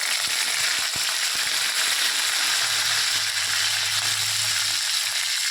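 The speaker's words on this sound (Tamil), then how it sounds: "இப்போ பெருஞ்சீரகம் பொரிஞ்சிருச்சு. பொரிஞ்ச உடனே நம்ம கருவேப்பிலை போட்டுக்கலாம்." Fennel seeds and curry leaves spluttering in hot oil in a pan while a kada gravy is cooked, a steady close crackle and sizzle with a faint low hum running underneath, no voices.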